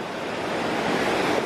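Rushing white water at Huka Falls near Lake Taupo in the rain, a loud continuous roar of churning rapids with steady wind-like hiss throughout.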